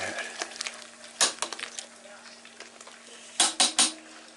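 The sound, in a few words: stirring the wort in a brewing pot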